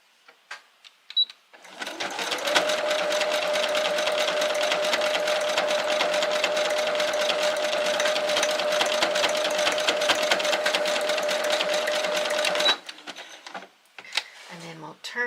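A sewing machine runs continuously for about ten seconds, a steady close whirring hum with rapid needle clatter, stitching a primitive art project, with brief handling noises before and after.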